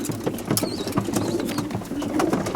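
Racing pigeons coo steadily in a loft, overlapping soft throaty calls forming a continuous murmur with occasional wing flutters, close and fairly loud throughout.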